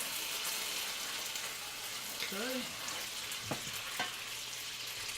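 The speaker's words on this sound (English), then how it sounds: "Let that sizzle up." French toast fries in a hot pan with a loud, steady sizzle throughout, while a voice speaks briefly and a few faint clinks sound in a home kitchen.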